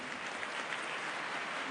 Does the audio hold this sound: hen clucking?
no